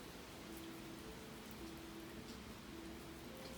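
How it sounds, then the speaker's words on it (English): Outdoor rain falls steadily as a soft, even hiss with no distinct drops or pauses, faint and continuous throughout, with no voices. "Do you guys hear the water? The rain? It's raining."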